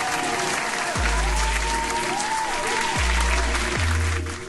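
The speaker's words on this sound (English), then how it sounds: "Hand clap for this, guys." Thick, continuous crowd applause, cued during a crypto news livestream, runs throughout at a strong, even level, layered with deep booming drops and sweeping synthetic tones.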